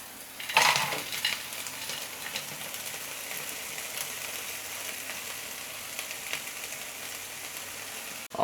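Peppers frying in a hot pan give a steady, moderate sizzle that holds for several seconds, with a brief clatter near the start. No voices.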